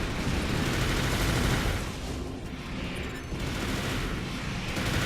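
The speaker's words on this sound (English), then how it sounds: "my machine guns are just shredding him to pieces" Rapid machine-gun fire from a mech in Armored Core: For Answer, shredding a lightweight opponent. A loud, dense, continuous barrage with heavy low rumble that dips briefly midway, then resumes, with no voices.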